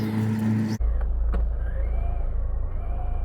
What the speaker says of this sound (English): This is my first run on the Bandit vxl 3S. 1/10 scale.